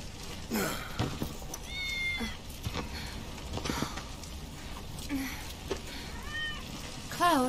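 A cat meows in Final Fantasy VII Remake, a few short tonal cries over a busy game soundscape with footsteps and ambience, with character voices speaking nearby.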